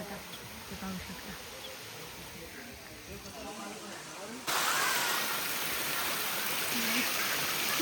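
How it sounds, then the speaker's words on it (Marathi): A small waterfall stream on the Korigad fort trek gives a continuous rushing hiss that grows noticeably louder halfway through, with faint voices in the background. "आता इथून खरं पाणीचा धबधबा सुरू होतो छोटा छोटा, ते पाहू शकता."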